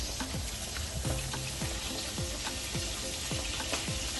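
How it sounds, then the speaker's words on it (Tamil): Prawns fry in hot oil in a pan, giving a steady, close sizzle with faint crackles and occasional stirring scrapes. No one speaks throughout. "Just fry the prawns."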